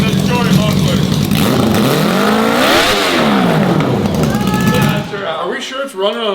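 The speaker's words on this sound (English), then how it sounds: "It sounds like a Harley." A crotch rocket motorcycle engine swapped into a quad revs hard through a short muffler, rising to a loud peak and falling away close by, while people talk over it.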